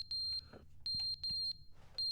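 Alarm in The Stanley Parable video game, sounding as a series of shrill, evenly spaced electronic beeps in regular pulses, with faint low rumbling between them.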